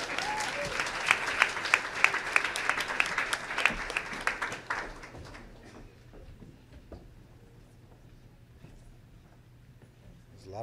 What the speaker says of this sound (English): So please come on up here and let's give them a big round of applause.